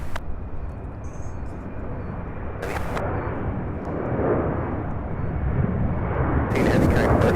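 A heavy UPS freighter jet departs on its takeoff roll, a loud, sustained broadband engine roar that builds steadily and stays close and dominant throughout, with no voices over it.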